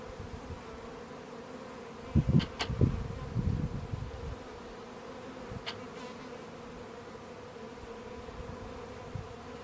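Honeybees buzz close by in an open hive in a steady drone, with a louder burst of buzzing a few seconds in before settling back to a low hum.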